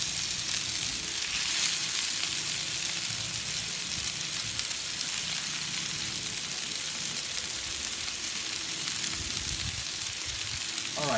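Peppers and onions sizzle on a wide griddle pan at a tailgate cookout, a steady dense hiss of frying that holds evenly throughout with no talk.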